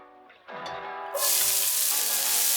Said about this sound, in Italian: Cipolla sfrigolante.